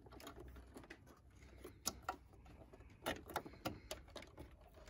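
A sewing machine stitches overlapped elastic for a face mask, giving a quiet, irregular run of short mechanical bursts and clicks, some sharper taps standing out, with no voices.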